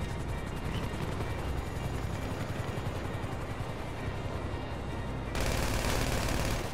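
GTA 5 gunfire in a snowy setting rattles as a dense continuous stream, with a sharp change in tone near the end and no voices.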